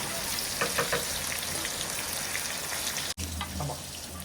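Surmai fish fillets frying crisp in oil over a low gas flame, a steady close sizzle and crackle with a brief clatter near the end and no talking.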